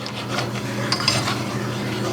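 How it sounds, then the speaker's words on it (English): Milk heated in a pot for vanilla sauce, stirred steadily with a utensil that scrapes and clinks against the pot's metal bottom, a close, continuous rubbing sound with faint sizzle. "when you boil milk you want to be very careful and stir it quite a bit"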